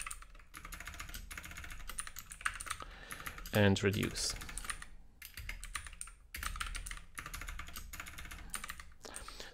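Rapid clicking on a computer keyboard comes in uneven bursts with short pauses, close and fairly quiet, while someone talks intermittently over it.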